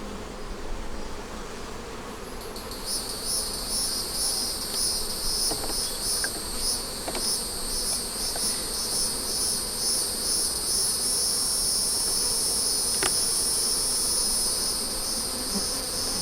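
Honeybees swarm around an open hive under inspection for queen cells, giving a dense, continuous buzz close to the listener with a high, whining hum that builds and holds steady, no voices heard.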